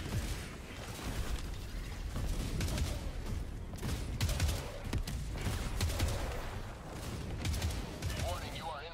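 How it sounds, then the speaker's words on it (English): Enemy artillery fire in a video game: a steady stream of muffled booms and bursts of gunfire rumbles under game sounds at moderate volume, with dense layered impacts throughout. "Warning, you are in range of enemy artillery."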